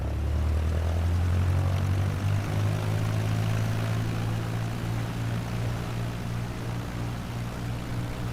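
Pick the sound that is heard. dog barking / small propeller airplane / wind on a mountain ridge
small propeller airplane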